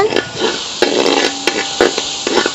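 Ginger-garlic paste with onion and chili sautéing in a pot for Dindigul Thalappakatti-style chicken biryani, a steady close sizzle broken by repeated scraping stirs of a spoon against the pan.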